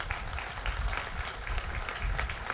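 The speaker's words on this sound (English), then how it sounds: "a big round of applause for everything you're doing today" Outdoor crowd at a guide dog walk-a-thon applauds steadily, a dense, moderately distant patter of many hands clapping for a few seconds.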